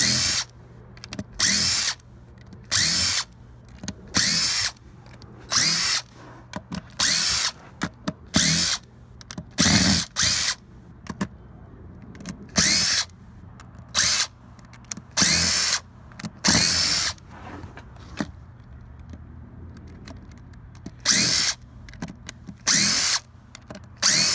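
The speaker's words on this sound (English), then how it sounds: "Next thing you want to do is just go down and remove all the screws." Power drill backing screws out of composite decking, a series of short loud whirring bursts with brief pauses between them, repeated steadily throughout with no talking.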